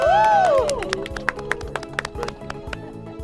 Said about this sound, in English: Can we give Dr. Nga just another hand clap?